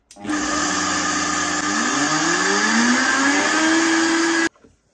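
A blender runs steadily on low speed, spinning about one and a half cups of sesame seeds into tahini, its motor whine rising slowly in pitch before cutting off abruptly near the end.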